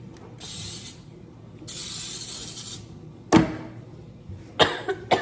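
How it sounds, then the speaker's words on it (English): Baker's Joy baking spray hisses into a loaf pan in two sustained bursts, each about a second long, loud and close, followed by a few sharp clattering knocks of the pan or can. "And then we're gonna spray it with Baker's Joy"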